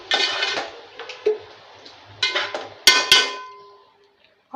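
Metal spoon knocking and scraping in a pot while yogurt is stirred into chicken pulao, several clinks and clanks arriving in uneven bursts with wet stirring between them, close and fairly loud.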